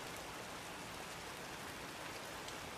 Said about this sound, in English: The sound of rain on the roof wasn't just noise.